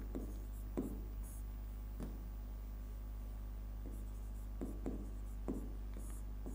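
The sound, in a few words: writing on a board while explaining physics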